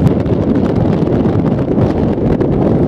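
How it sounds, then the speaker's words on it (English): Strong desert wind in the Sahara buffets the microphone beside a parked solar-powered touring bicycle, a steady, loud broadband roar with gusty rustling and no speech. "Right, pretty windy as I'm sure you can hear."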